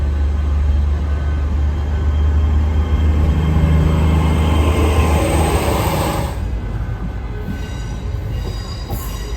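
A TransPennine Express train rolling over the Leeds and Liverpool Canal into Leeds station, with a loud, steady rumble of wheels and carriage noise that eases slightly toward the end, with faint high squeals.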